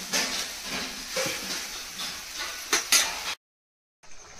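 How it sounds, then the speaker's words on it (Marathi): Wet cashew curry simmering in a pot, a continuous soft hissing bubble with faint clinks of a utensil, cutting to silence briefly near the end. "तर इथे काजूची भाजी शिजते"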